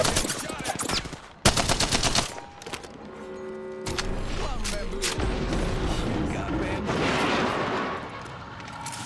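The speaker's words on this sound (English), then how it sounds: "Shots fired and they're hitting me." Rapid bursts of gunfire from the video game Apex Legends, loud automatic volleys broken by short pauses, with game effects and a voice in the mix.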